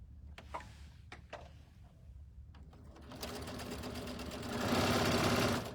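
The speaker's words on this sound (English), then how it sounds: "So we're going to top stitch both short edges." A sewing machine top stitches the short edges of fabric for a cinch bag, starting with a few clicks and short runs, then settling into a steady whirring run that grows louder toward the end.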